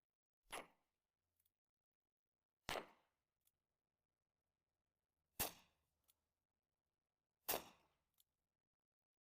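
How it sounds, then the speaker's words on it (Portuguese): Four sharp 6mm Flobert cartridge shots fired at a water bottle on a shooting range, each a crisp isolated crack spaced a couple of seconds apart, with faint small clicks between, otherwise quiet. "Temos que atirar em uma garrafa d'água"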